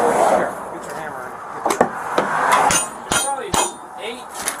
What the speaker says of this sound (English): Here, get your hammer.